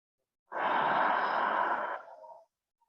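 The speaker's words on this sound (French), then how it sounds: "Une dernière respiration." A single deep exhale through the mouth during a yin yoga session, close and clear, swelling quickly then fading out over about two seconds into quiet.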